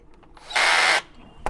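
A power driver spins a screw into a plastic-coated iron pipe grow bag stand in one close, loud half-second whir, with light handling taps before and a small click after.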